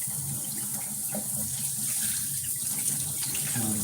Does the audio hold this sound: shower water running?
yes